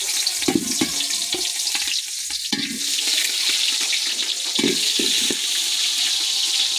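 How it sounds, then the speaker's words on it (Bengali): Chopped onions and chilies hit hot oil in a rustic village-style biryani pot, giving a steady loud sizzle with occasional stirring knocks throughout. "এই যে আমি পেঁয়াজ মরিচগুলো কেটে রেখেছিলাম আগে থেকে, তেলের মধ্যে দিয়ে দিলাম।"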